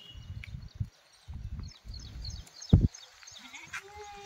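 Kathiawadi goats bleat at a busy goat market. A sharp, close bleat stands out among fainter cries, over low muffled voices and shuffling nearby.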